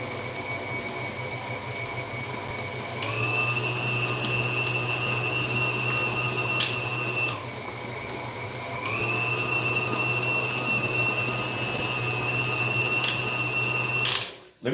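An electric mixer whirs through carrot cake batter, a steady motor whine that switches off briefly and restarts, loud and close, ending with a clatter.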